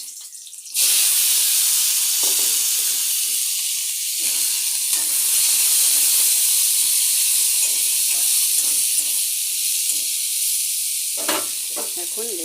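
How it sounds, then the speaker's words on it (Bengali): Pumpkin pieces hit hot oil with dried red chili and a green-chili tempering, setting off a loud, steady sizzle that starts abruptly and holds throughout, with occasional soft stirring clinks. "এখন এই মিষ্টি কুমড়োগুলি ছেড়ে দেবো।"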